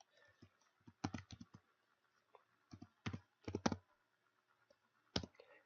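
Quiet clicky keystrokes on a computer keyboard while entering a spreadsheet formula, short bursts of several quick taps separated by pauses, close and soft.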